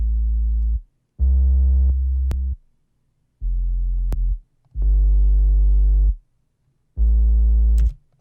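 A harsh, buzzy, distorted future bass synth tone in FL Studio plays in four sustained bursts separated by short silences, loud and gritty with sharp clicks between notes.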